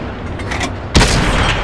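Gunfire in a video game: a faint, muffled background rumble, then a single loud, sharp shot that bursts in near the middle and trails off into a sustained roar.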